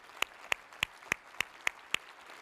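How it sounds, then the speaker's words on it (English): Sparse clapping at a membership event: about seven sharp, evenly spaced claps, crisp and close, over a quiet room. "So if we could just give them a round of applause, that'd be great."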